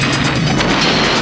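A building blows apart in a 1988 Die Hard action scene, a loud, dense roaring blast with rumbling low end and crashing debris that fills the whole moment without a break.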